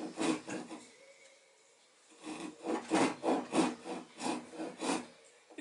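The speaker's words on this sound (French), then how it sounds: "on va d'abord scier avec la scie japonaise les deux côtés" A Japanese pull saw cuts vertically into wood with its fine teeth, a faint, close series of rhythmic rasping strokes after a brief pause.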